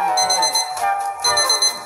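A timer alarm rings in a Roblox game, a bright electronic beeping in two quick repeated bursts with no talk over it.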